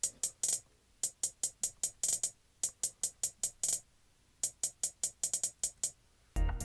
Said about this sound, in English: They sound really tinny by themselves